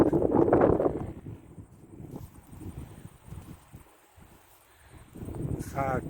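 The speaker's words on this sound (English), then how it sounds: "Sorry about the wind." Wind buffeting a microphone on sand dunes near pine forest at Foxton Beach: loud gusty rumbles at the start and again near the end, easing in between, with a voice speaking intermittently.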